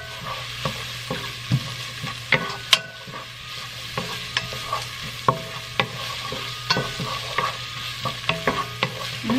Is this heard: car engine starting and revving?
no